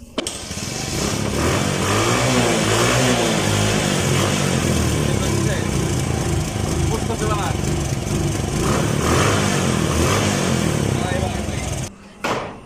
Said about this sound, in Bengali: ইঞ্জিনের সাউন্ডটা আমি আপনাদেরকে দেখাবো যে ইঞ্জিনের সাউন্ডটা কেমন আছে